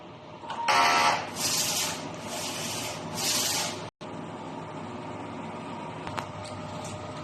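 A DTF printer running a nozzle test after a head clean, with a loud burst of whirring and spraying print-head activity in the first half, then a steadier mechanical hum with faint clicks.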